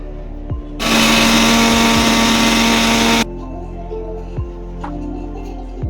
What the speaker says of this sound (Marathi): आता जे भाजून घेतलेलं आहे ते आता मिक्सरमध्ये काढून घेऊ आपण